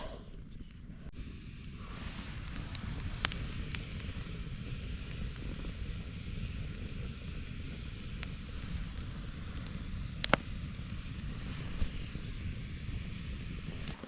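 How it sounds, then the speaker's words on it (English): Steady rain pours down on a campfire during a solo kayak camping trip in black fly season. It makes a dense, even hiss, with faint occasional pops and crackles mixed in and no voices. "So it just started pouring on my campfire."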